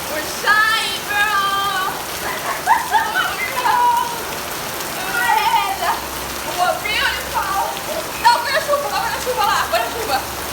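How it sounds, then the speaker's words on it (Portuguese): Heavy rain falls continuously on a street where someone stands bathing in the downpour; the rain keeps up an even wash while people talk and exclaim on top of it. "Toma banho de chuva."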